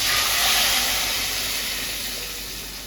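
Dal poured into a hot pan for Bengali-style kalai dal, giving a loud, steady, hissing sizzle that peaks early and slowly softens, with no voices.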